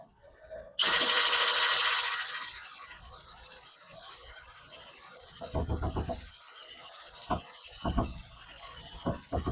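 A power drill drives a self-tapping screw through a metal gate frame in one loud whining burst of about two seconds, followed by quieter knocks and handling sounds.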